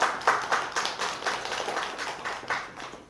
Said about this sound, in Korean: 두 분께 박수 한번 쳐주세요.